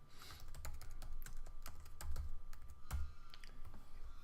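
Typing on a computer keyboard, a steady run of quick, light key clicks, close but quiet, with no talk over it.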